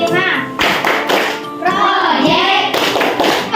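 Children clap a patterned classroom chant called Tepuk P5, led by one pupil: sharp, rhythmic hand claps close by, mixed with young voices chanting along throughout.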